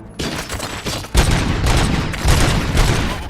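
Gunfire from the video game Robocop Rogue City, in an old factory level, sounds as loud, dense bursts of rapid shots that start abruptly and keep rolling without pause for several seconds.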